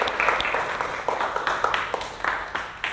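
A small classroom group gives a short burst of applause for a student, light scattered hand claps close by with a few voices underneath.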